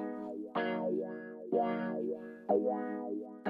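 A slow, deep electric guitar with heavy effects, chords struck about once a second with a sweeping wah-like warble and swirling echo between hits.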